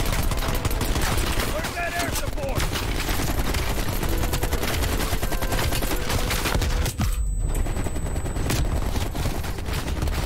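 Gunfire in the Call of Duty Cold War campaign, dense, continuous bursts of shots and automatic fire filling the scene at high level with a sharp loud blast near the end, amid constant battle noise.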